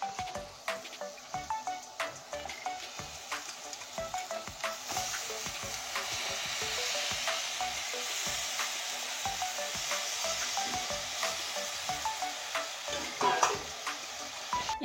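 Home-grown pumpkin greens from a rooftop garden sizzle steadily in a frying pan, with a constant hiss of hot oil and frequent close scraping and clicking from the stirring utensil throughout.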